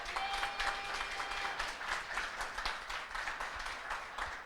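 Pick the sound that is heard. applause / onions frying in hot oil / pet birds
applause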